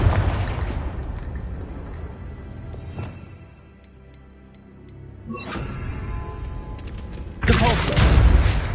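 A Confringo fire-blast spell bursting in the video game Hogwarts Legacy: several booming explosive blasts with rumbling tails, a quieter lull in the middle, then a final loud burst.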